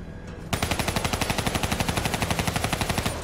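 Black Ops 3 campaign gunfire from a video game: after a brief lull, a loud automatic weapon fires a long, evenly spaced burst of about thirty rapid shots that runs to the end.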